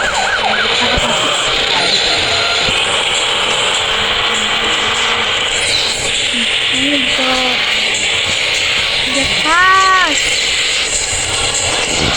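A police car siren wails in short rising and falling sweeps over a loud, busy background of rattling and mechanical noise, with voices talking throughout.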